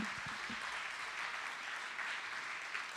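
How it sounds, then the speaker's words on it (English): Audience applause for judges at a university entrepreneurship competition, a steady, fairly faint wash of clapping from a crowd, heard alone with no voices. "Can you clap them out for me as we go through these folks?"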